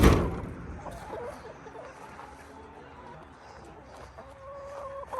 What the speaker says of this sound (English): the chickens are out right now